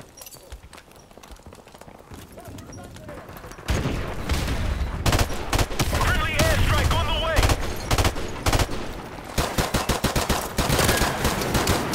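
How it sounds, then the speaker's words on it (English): Gunfire in the video game Call of Duty 4 Remastered: rapid bursts and volleys of shots, quieter at first, then loud, dense and sustained with overlapping rounds. "I put at least four bullets into him"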